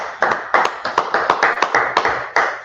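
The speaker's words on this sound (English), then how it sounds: "go ahead and clap it up" A small group clapping in a rhythmic, uneven patter of sharp hand claps, fairly close and steady, at a religious gathering of the Israelite School of Universal and Practical Knowledge in Harlem.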